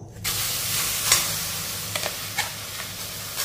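Ground amla paste fries in a hot kadai with a steady broadband sizzle, punctuated by a few soft scrapes and clicks of stirring; no one speaks.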